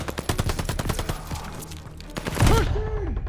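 Rapid machine gun bursts in Call of Duty Vanguard, loud and close, crackling continuously for most of the moment, with a shouted voice rising near the end.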